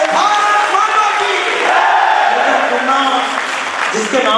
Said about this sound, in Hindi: जिसके नाम पे आप ताली बजा रहे हो